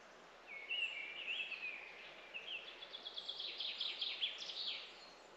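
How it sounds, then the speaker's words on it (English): Birdsong fills a wood on a calm morning: several high, bright chirping phrases and trills, moderately distant, repeating over a soft background hush with no voices. "The birds are out playing."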